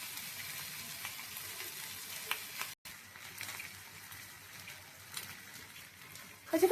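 Katla fish frying in a ghee-roasted masala, a steady soft sizzle with faint stirring throughout, briefly cut off near the middle, then some louder clatter at the very end.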